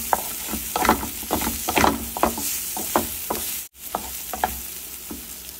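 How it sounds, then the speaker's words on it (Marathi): Garlic and onion sautéing in a pan for a flat bean curry, a steady sizzle broken by repeated scraping stirs at a close distance, with no talking. "यात आपण लसूण घालूया, आपण छान परतून घेऊया"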